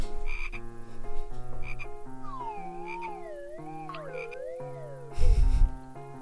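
Loud, deep frog croaks from the point-and-click game Polda 7, repeated in short bursts over a gliding, playful game melody, ending in a heavy rumbling burst.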